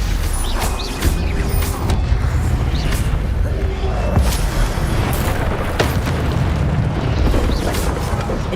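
Repeated Stupefy spell blasts in the Hogwarts Legacy video game: a dense run of bursts and booming impacts over constant combat noise, with sharp pops scattered throughout.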